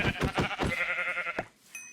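Sheep bleating in Minecraft, a short run of several quick bleats close and fairly loud, ending with a brief pause and a faint tail.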